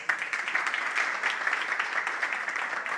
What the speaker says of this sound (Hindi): अगर पसंद हो तालियां बजाइए जरा।